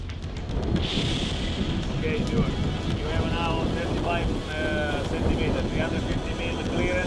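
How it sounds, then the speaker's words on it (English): Strong wind buffets the microphone at a heavy-lift site where a colossal column is being erected, making a constant loud roar, with a narrator speaking over it. "the battle against the wind, which keeps swaying the colossal structure back and forth"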